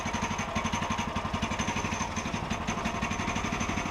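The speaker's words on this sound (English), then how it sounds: "The engine's not warmed up yet, so I accelerate very slowly." A cold sawmill engine that has not yet warmed up runs with a fast, even, throbbing pulse, a steady mechanical chug heard alone at moderate level.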